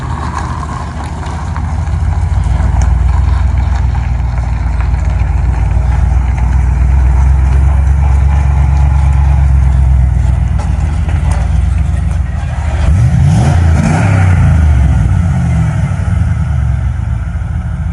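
A loaded vehicle's engine labours steadily uphill in fourth gear, a continuous low drone that stays loud and even throughout with a brief rise in strain near the end.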